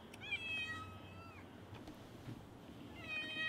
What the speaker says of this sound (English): This cat has never come up.